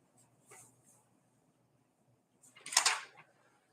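A single sharp sneeze bursts out in a quiet meeting room during a commissioners' session, brief and fairly close, preceded by faint rustling and small sounds.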